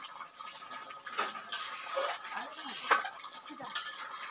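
A spoon clinks and scrapes against a metal cooking pot while Kadaknath chicken is stirred, a few short irregular knocks and scrapes close up and fairly quiet.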